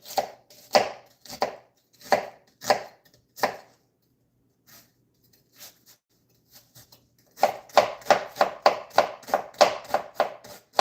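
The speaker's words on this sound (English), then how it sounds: "So we're just roughly dicing." A knife roughly dices tomatoes on a cutting board in two bursts of quick, close chopping thuds. A quiet gap with a few soft taps separates the bursts, and the second run is denser and faster.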